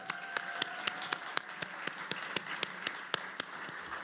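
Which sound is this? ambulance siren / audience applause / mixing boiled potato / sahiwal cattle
audience applause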